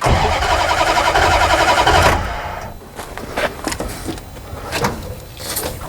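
A Dodge Ramcharger that has sat for 20 years cranks loudly for about two seconds, then sputters and coughs unevenly without settling into a steady idle, heard close up.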